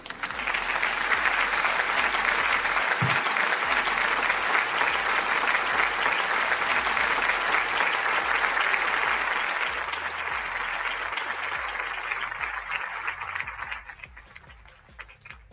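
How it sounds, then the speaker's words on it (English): A long round of crowd applause, steady and full for about ten seconds and then gradually thinning and fading out toward the end, fairly close. "So y'all give Auntie Faye and yourself a round of applause for her getting that achievement."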